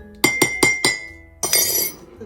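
A spoon clinks against a glass of tea with honey, four quick bright taps in a row, then a brief pause and a longer rattling clatter as it stirs; close and fairly loud, with no talking.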